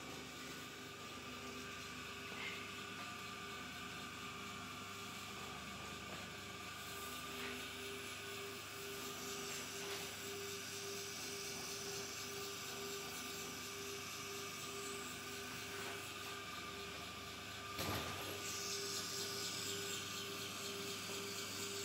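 Royal brand paper cutting machine running steadily, a constant mechanical hum with faint ratcheting ticks and occasional knocks, fairly quiet and unchanging throughout, no talk.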